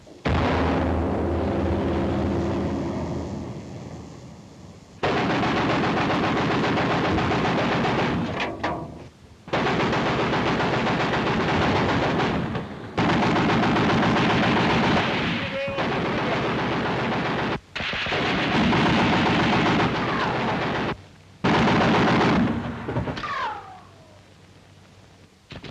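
Battle gunfire fills a 1944 WWII naval docufiction scene: machine-gun bursts and heavy artillery blasts come in loud, repeated volleys separated by brief silent gaps, with shouted voices now and then.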